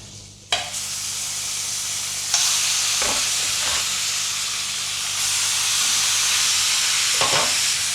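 Butter sizzles loudly and steadily in a hot pan, a continuous close frying hiss with a few sharper crackles and bursts as more butter goes in.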